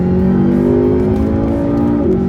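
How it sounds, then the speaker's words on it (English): A 2012 McLaren 12C coupe with big ceramic brakes roars loudly under hard acceleration on a track, its engine note climbing steadily and close, then dipping briefly as it shifts near the end. "Great roar out of that engine."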